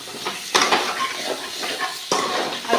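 A spatula scrapes and stirs potatoes and soybean chunks with fried spices in a pan, with a couple of loud close scrapes over a steady sizzle.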